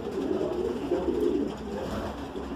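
Homing pigeons coo steadily in a loft, a close, continuous low murmur of overlapping throaty calls with no talking.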